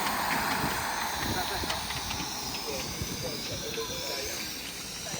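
A small engine runs at a fair in England, heard as a continuous hissing, steamy rumble under crowd noise and voices nearby.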